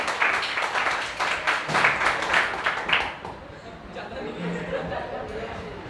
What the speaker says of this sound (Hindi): खुद के लिए तालियां